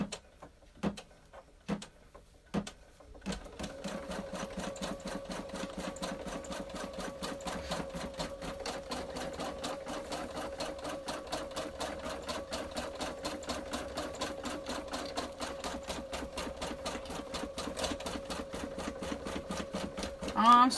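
An embroidery machine bastes a hooped towel with a steady, rapid stitching rhythm that runs continuously at moderate volume after a few opening clicks.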